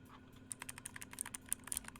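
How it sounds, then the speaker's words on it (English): Typing on a Razer optical keyboard: a quick run of crisp, fairly even keystroke clicks over about two seconds, close and moderately loud with no talking. "This one, pretty sure it's gonna sound better. It's an optical keyboard, so it's gonna have better responses"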